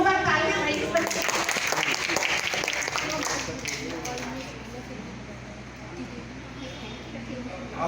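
An audience at an old age home event claps for a child, a dense burst of applause at first that gradually thins and fades, with a voice speaking over it.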